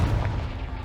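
A Confringo fire spell from the Hogwarts Legacy video game blasts off as a single loud, low boom that rumbles and fades over under a second, with no talking.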